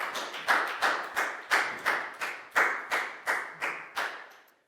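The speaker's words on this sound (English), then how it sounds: "High five and a big round of applause for Net" A children's English class claps in an even rhythm, about a dozen crisp, close group claps spaced roughly a third of a second apart, each with a short decay, fading out at the end.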